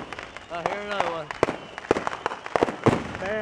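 Fireworks bursting during a rainstorm with lightning, a string of sharp pops and bangs at irregular intervals, some near and loud, as people talk over them.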